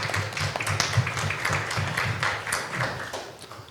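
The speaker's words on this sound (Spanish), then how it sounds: "Aplausito, por favor." An audience at a panel discussion bursts into steady applause, a dense patter of many hands clapping close by and fairly evenly for several seconds, with hardly any voices over it.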